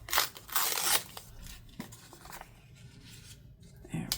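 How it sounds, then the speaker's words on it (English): Patterned stars-and-stripes paper is torn by hand up close in a few short, crisp rips, with quieter rustling and crinkling between them. "I'm going to tear a little bit of this off"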